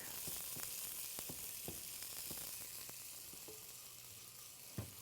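Chopped onions sauté quietly in a pan on an electric stove, giving a faint, even sizzle dotted with light ticks and taps from stirring.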